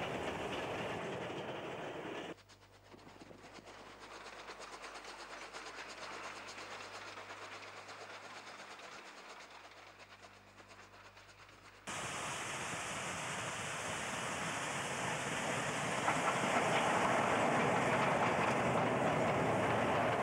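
A steam train hauls a down goods train of wagons across the Macquarie River bridge near Dubbo, a broad continuous rumble and hiss of rolling wagons and rail clatter that shifts in tone partway through, with no talk.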